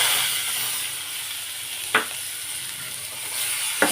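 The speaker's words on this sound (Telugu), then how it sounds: "ఇప్పుడు ఈ పోపులోనే నేను దోసకాయ ముక్కలు అయితే వేసుకుంటానండి." Cucumber pieces go into hot tempering in a pan for dosakaya pappu, giving a steady bright sizzle throughout with two brief sharp crackles of stirring, close by and with no talk.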